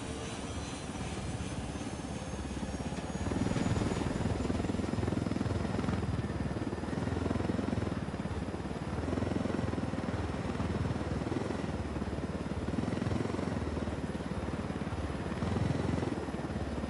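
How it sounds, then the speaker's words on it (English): Helicopter in Ghost Recon Wildlands flying steadily, a loud continuous rotor and engine drone that holds without pause throughout, with no talk over it. "Nothing like swiping a helicopter to bring a day into focus."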